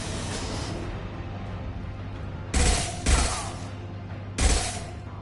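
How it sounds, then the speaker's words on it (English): Gunfire from Mass Effect 2 on PS5: three sharp, loud shots ring out with irregular gaps, two close together and one later, over a constant low hum of game ambience. "I can hear the guns going"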